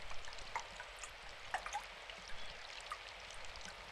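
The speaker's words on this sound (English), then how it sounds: "There was a sound of flowing water, the rain hitting the gutter." Rainwater flows steadily through a gutter in the video game Symphonic Rain, a soft, hissing rush dotted with occasional faint drips.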